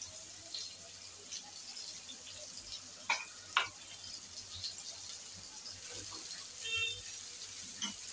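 Rava-coated kupa fish fries in a pan with a soft, low sizzle, punctuated by a couple of brief clicks and light scrapes.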